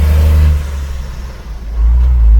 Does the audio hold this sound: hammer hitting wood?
no